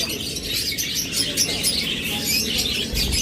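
Pet lovebirds or cockatiels in a shop chirp in dense, overlapping high tweets, a busy continuous chatter from several birds at close range.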